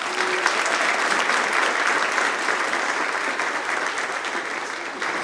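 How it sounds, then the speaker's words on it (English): Audience applause for fifth grade performers at a spring school concert: a broad, sustained wash of many hands clapping, loud and even from start to finish with no speech over it. "Give them a round of applause."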